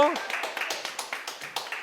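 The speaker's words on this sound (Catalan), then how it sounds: "Aplaudiment per tu" A small group claps in quick, regular beats, about eight sharp claps in under two seconds, after a brief voice at the very start.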